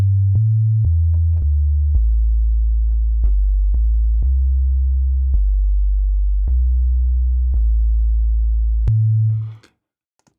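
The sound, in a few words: synthesizer sub-bass sine tone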